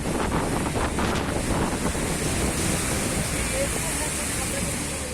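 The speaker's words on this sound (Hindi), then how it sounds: "आप देख सकते हैं कि आखिर किस तरह लहरें इस भारी भरकम जहाज को धक्का दे रही थी" Surf and ocean waves pounding against a heavy cement-laden ship stranded among the breakers, a continuous loud wash and roar with strong wind buffeting the microphone throughout.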